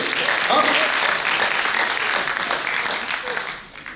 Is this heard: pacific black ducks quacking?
no